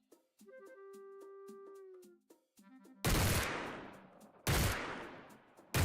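Gunfire in the video game Demo Demolition: rapid clicky shots over a sustained electronic tone, then heavy explosive blasts that decay slowly, each followed by another loud burst, close and dominant with no talk.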